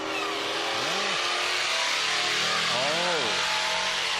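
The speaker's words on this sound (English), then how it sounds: "That sounds like a second gear launch." A Hellcat-powered Dodge Magnum launches in second gear at a drag strip, its engine note swooping up and down loudly and close behind a continuous crowd and track roar, with people talking over it.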